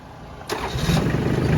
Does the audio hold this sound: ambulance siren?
no